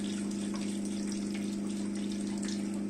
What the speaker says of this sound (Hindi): हमने ये 1 गिलास पानी डाल दिया।